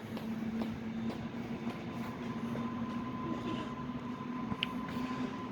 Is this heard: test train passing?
yes